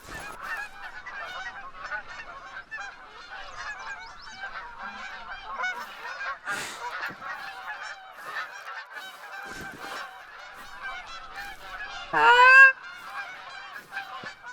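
A flock of geese honks continuously at middle distance in theHunter: Call of the Wild hunting game, with one louder, nearer honk cry near the end.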